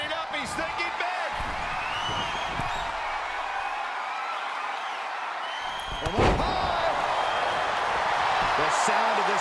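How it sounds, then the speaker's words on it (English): Arena crowd in WWE 2K22 roars in a dense continuous wash with a slam-like impact midway, loud and sustained, while a commentator talks over it. "Sound of this crowd is deafening"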